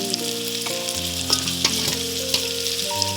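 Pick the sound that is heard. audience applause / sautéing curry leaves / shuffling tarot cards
sautéing curry leaves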